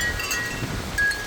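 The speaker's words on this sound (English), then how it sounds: "You hear that wind? Goodness gracious." Strong outdoor wind buffets the microphone in a steady, loud rush of broadband noise for over a second, with a few faint high ringing tones from a wind chime swinging against a pole.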